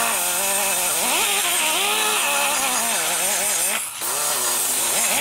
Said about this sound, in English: now I'm going to see this cutter will actually go around the back side over here